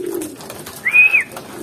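A pigeon at a racing pigeon loft gives a single close, soft coo, with faint low murmuring from other birds around it.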